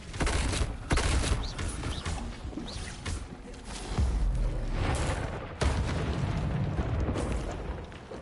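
Incendio fire spell cast in Hogwarts Legacy, a dense roaring rush of flame and rumbling bursts that swells several times across the clip, loud and continuous with no voices.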